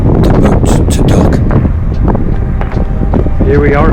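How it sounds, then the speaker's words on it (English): Loud, blustery wind on Lanzarote buffeting the microphone in a continuous roar, with a voice faintly mixed in. "It was very windy."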